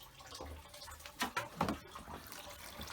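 Water siphoned through a hose from a koi holding tank into a bucket gives soft, close trickling and gurgling, with a few louder splashy bursts in the middle.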